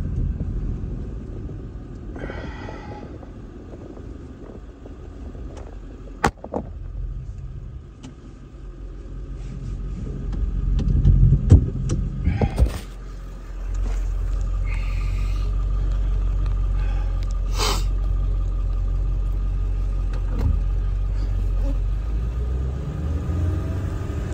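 A 2001 Ford F350 with a 7.3 liter diesel engine, 138K miles, idles with a steady low rumble from inside the cab, swelling as a little throttle is given, with a few brief clicks and knocks along the way.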